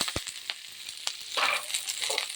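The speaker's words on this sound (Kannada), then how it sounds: "ಕರಿಬೇವಿನ ಸೊಪ್ಪು, ಈರುಳ್ಳಿ ಹಾಕ್ತೀನಿ." Green chillies, curry leaves and onion crackle and sizzle in hot oil for a palya, with brief sharp pops early on and a steady hiss building as they are stirred, close and moderately loud.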